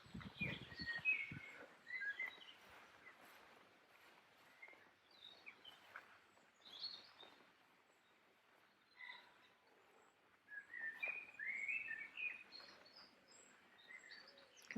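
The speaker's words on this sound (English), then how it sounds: "Can you take in all the bird song?" Birds sing and chirp in the Suffolk countryside near Kirton and Falkenham in June, faint scattered calls and short trills against quiet air, with a soft rustle early on.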